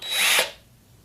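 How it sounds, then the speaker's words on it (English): A Forstner bit drilling into wood gives a single brief, close whirring burst that winds down within half a second. "Alright, so I've got a Forstner bit."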